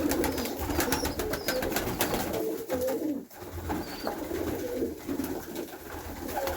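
Domestic pigeons coo softly and repeatedly while feeding on a homemade mix of sand, shells and calcium grit, with steady low rustling around them and no talk.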